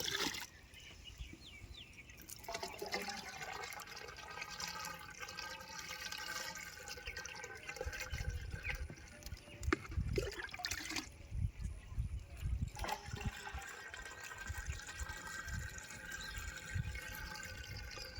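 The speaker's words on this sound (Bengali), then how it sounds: "এই অ্যাসিড মিশ্রিত জল পাইপলাইনের শেষ মাথা পর্যন্ত গেছে" Acid-treated water flushes through a poultry farm's drinking-water pipeline with a continuous trickling, gurgling flow and a low rumble, fairly faint and steady throughout.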